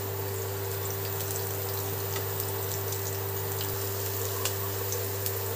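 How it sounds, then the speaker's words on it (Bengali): Chopped ginger and green chili frying in hot oil, a steady even sizzle with scattered crackles, close and continuous over a constant low electrical hum, with no talk. "এগুলোকে হালকা ভাজা ভাজা করে নেব।"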